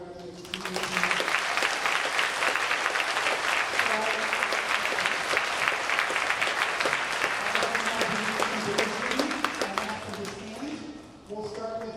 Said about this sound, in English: another round of applause for all of our graduates